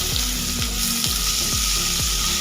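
Potatoes and boiled young jackfruit fry together in a pan with a loud, continuous sizzle, punctuated by regular scraping strokes of a spatula stirring them about every half second.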